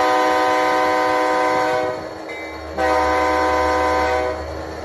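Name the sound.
Overland MK5000C model locomotive sound from Tsunami 2 decoder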